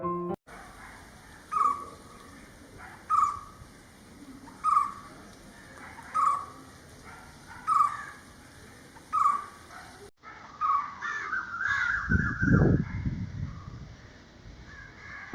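A white-cheeked barbet sings a series of evenly spaced, hollow repeated notes at a moderate distance, about six in a row, followed by a busier stretch with other bird calls and a louder nearby sound.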